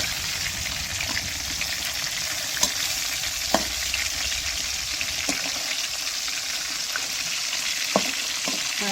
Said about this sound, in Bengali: গাইস দেখেন, এবার আমি মাছটা উল্টিয়ে দিচ্ছি